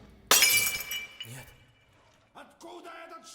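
A pane of glass shatters in the horror video game Metel with a sudden loud crash, followed by a tinkle of falling shards and then quieter clinks and in-game noises.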